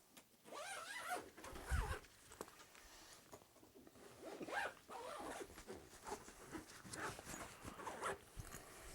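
A Bag Boy Freestyle golf travel bag is zipped shut in several long, rasping zipper pulls, close and clear, with brief pauses and handling rustles between strokes.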